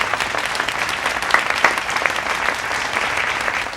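An audience at a stage event applauds steadily and enthusiastically, a dense, continuous wash of clapping heard alone at moderate loudness.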